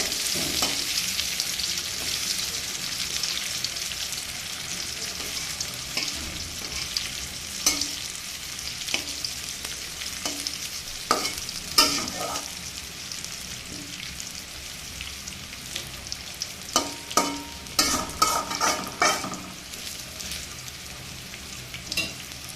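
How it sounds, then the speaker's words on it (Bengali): Pieces of taro (kochu) fry in a pan with a steady sizzle and hiss, broken by occasional sharper crackles and scraping stir sounds, especially toward the end; close and unvoiced. "আর এদিকে কচু ভাজাটা হতে থাক"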